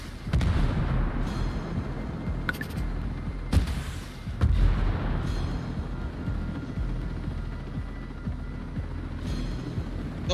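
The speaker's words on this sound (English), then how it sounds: "why fight the Terminator on the ground when you can just lob rockets at it from at a distance?" Rockets fired at the Terminator in Ghost Recon Breakpoint across a snowy ice field, heard as deep booming launches and explosions over a steady rumbling background, with several sharp blasts near the start and middle.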